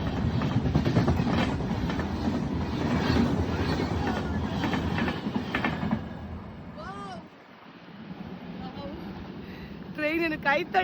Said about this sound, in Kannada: ಎಸ್ ಇದೆ ಟ್ರೈನ್ ಬತ್ತಂಡು